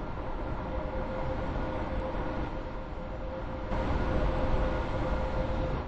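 A Class 801 express train in the Roblox game Stepford County Railway, running into Llyn-by-the-Sea station: a continuous low rumble with a steady faint whine, growing slightly louder partway through, with no voices.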